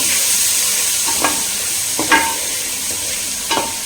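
Chopped tomatoes go into a pan of sautéed capsicum and onion for a butter paneer kadai gravy, giving a steady close sizzle and frying hiss with three distinct spoon scrapes as the mix is stirred.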